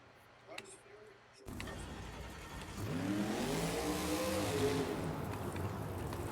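A monster truck engine at an arena event cranks and catches, then climbs into a loud, sustained rev with a rising and falling pitch. Crowd and commentary noise sit underneath.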